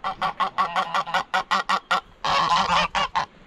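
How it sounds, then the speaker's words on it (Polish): Geese on the attack near a riverside path honk loudly and close in a rapid run of about a dozen sharp calls, then a longer harsh burst and a few final honks. "A teraz nas gęsi zaatakowały,"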